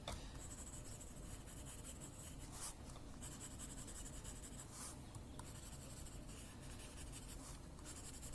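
Graphite pencil rubs and scratches across a paper tile while shading a tangle drawing, a steady close scratching with brief lifts and changes of stroke.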